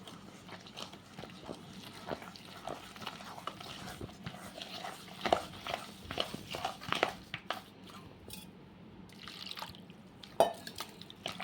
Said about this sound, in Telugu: నీళ్ళు అనేది చూసుకొని వేసుకుంటూ కలుపుకోవాలి